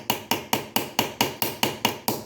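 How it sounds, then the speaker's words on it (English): Nine sharp, evenly spaced hammer blows ring out on an anvil while peening over a visible rivet head, each strike crisp and close with a short metallic decay, no talking. "And then you just peen over the head."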